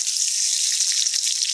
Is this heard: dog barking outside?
no